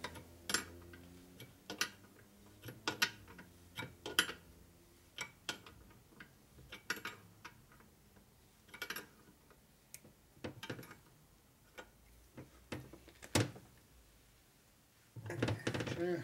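Wrench clicks and metal ticks while tightening bolts on the engine case of a 1972 Harley-Davidson Sportster Ironhead during a rebuild, sounding as sharp, irregular close taps spread through the clip with a louder rattle near the end.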